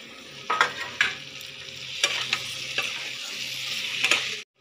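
Potatoes, pointed gourd and fish fry together in spiced oil, a steady sizzle broken by several sharp clinks and scrapes of stirring, close and alone with no talk.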